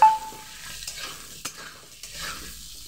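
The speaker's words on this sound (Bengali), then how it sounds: "আলুটাকে একটু কিছুক্ষণ ভেজে নেওয়ার পর" Potato pieces frying in a pan with salt and turmeric, giving a faint, steady background sizzle with a few sharp clicks of a spoon stirring against the pan, close by.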